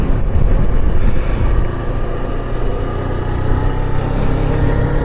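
A small-engine motorbike on an early Sunday morning road ride gives a loud, continuous roar from the rider's position, mixed with heavy wind rush and buffeting.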